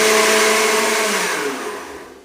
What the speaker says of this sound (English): All I need to do now is turn my mixer on high.